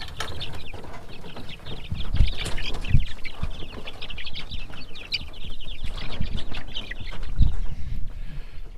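White leghorn chickens four weeks old cluck and cheep steadily in a farm barn, a busy, fairly close chorus with occasional louder thumps and no talk.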